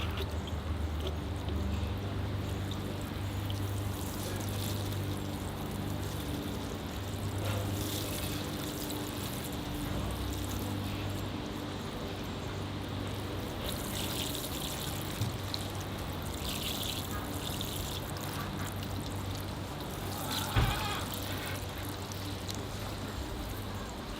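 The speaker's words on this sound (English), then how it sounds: "I'll apply the water now to blend the sand in with the moss." Water poured over sand and moss on a birch bonsai forest planting, a steady soft trickling wash that runs continuously under a broad background hiss, with no talking.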